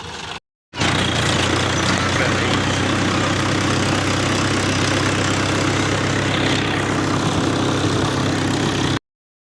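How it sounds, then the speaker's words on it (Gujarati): A farm tractor's engine idles steadily after being restarted in a field, a loud, continuous low rumble that starts abruptly after a short gap and runs evenly until cutting off at the end. "ટ્રેક્ટર થઈ ગયું ચાલુ"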